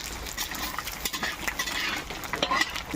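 Panch phoron whole spices fry in oil with cumin while a metal spoon scrapes and clinks against the pan, making short stirring strokes over a light sizzle, heard up close.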